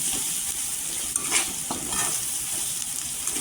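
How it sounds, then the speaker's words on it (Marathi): Kashmiri red chili powder and salt sautéing in oil produce a continuous, close sizzle, with a few soft stirring scrapes over the hiss and no voices. "हे छान असं आहे ना तेलावर परतून घ्यायचं"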